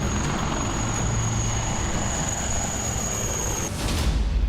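An Indian Prachand combat helicopter in flight, a steady loud rotor and engine roar with a thin high whine, holding constant before a brief shift near the end, with no voices.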